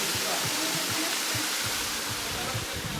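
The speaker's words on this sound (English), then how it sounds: "we finally arrived at Cachoeira de Vinha, the waterfall we talked earlier about" Cachoeira de Vinha, a waterfall on Santo Antão in Cape Verde, gives a steady, dense rush of falling water that fills the whole clip, with faint low thumps beneath the constant roar.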